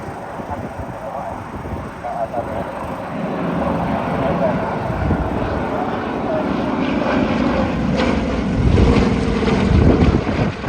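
Aircraft flying in formation at the Headcorn International Airshow approach overhead, a steady broadband engine roar that swells louder toward the end, with wind buffeting the microphone throughout.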